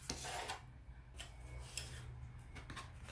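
A bone folder rubs along a folded card to smooth the crease, giving soft, faint scraping strokes in a quiet room with no voices.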